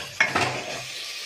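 Chickpeas with salt and spices are stirred in a hot pan, a spatula striking metal twice in quick succession over a soft sizzle that fades away.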